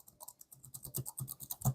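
Typing on a Nulea RT05B split keyboard produces soft, rapid, close-up key presses in a quick uneven rhythm, muted and not clicky, heard alone.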